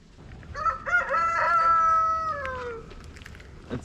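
A rooster crows one long, drawn-out call at close range near a chicken coop on an off-grid homestead, followed by a brief scratchy cluck at the end.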